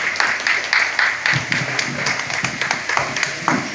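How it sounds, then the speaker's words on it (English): Outdoor audience at a zoo Halloween event applauds a Garifuna drumming group, scattered claps at moderate level with a few voices calling out among them. "Let's give a round of applause for Mr. Arana and his drumming group."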